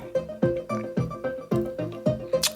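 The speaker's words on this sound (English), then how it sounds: "So this bass drum's coming from the live clock." A looping electronic bass drum from a modular synthesizer thumps in a steady repeating rhythm, layered with tonal synth hits, fairly quiet and with no voices.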